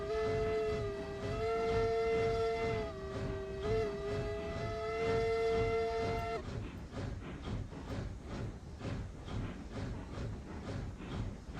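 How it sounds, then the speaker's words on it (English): A model train on its track sounds a long, steady whistle for about six seconds, then rolls on with a continuous low rumble and rhythmic clatter of wheels. "the caboose just crested the curve"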